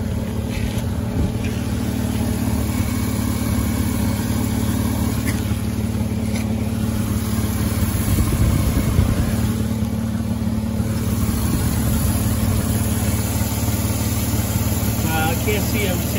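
A van's engine idles with the air conditioning and compressor running, a steady low rumble and hum throughout, with a person talking over it.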